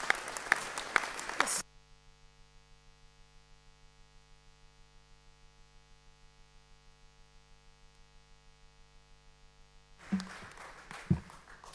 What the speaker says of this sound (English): How did you like that, to be applauded after a talk?